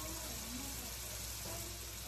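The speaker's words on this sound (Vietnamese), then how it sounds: "Giờ mình chiên cho nó vàng rồi mình sẽ vớt ra một cái dĩa có giấy thấm á" Fish cakes sizzle in hot oil in a home kitchen, a steady, continuous frying hiss that holds close and even throughout, with no talk over it.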